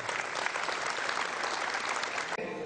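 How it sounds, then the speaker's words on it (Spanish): An audience at a political gathering claps in a steady, moderately loud burst of applause that runs continuously and then cuts off abruptly. "Fuerte aplauso."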